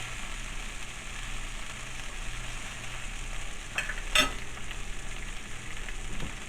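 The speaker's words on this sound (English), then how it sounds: "So I'm just gonna go ahead and flip these over" Salmon fillets sizzle steadily in a hot pan, a constant close frying hiss, broken by a brief clatter and scrape as they are flipped over.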